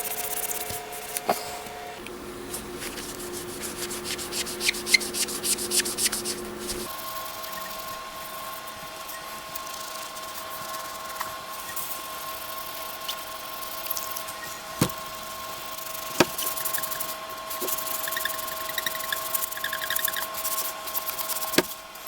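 Sanding rust off the rear sections of Suzuki GSX1400 motorcycle crash bars, a steady, fairly loud abrasive whir with a pitch shift partway through and a few sharp clicks, continuous throughout.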